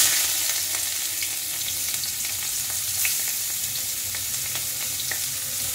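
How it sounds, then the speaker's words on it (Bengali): Chopped onion sizzling in hot oil left over from frying eggs, a steady close crackle with occasional pops and stirring scrapes throughout. "ভেজে নিয়ে এবার ওই তেলেতে ওই চপার করা পেঁয়াজটা দিয়ে দেওয়া হচ্ছে।"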